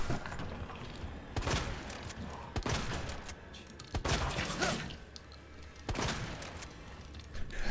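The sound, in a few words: gunshots fired in the video game Resident Evil 2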